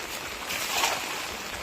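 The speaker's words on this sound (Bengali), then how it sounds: "দেখো জল সরছে তো ভালো দেখো ব্যাপক জল যাচ্ছে তো" Swollen river water rushes past steadily after heavy monsoon rain on the Garal river, a continuous broadband roar that swells slightly midway, with no voices.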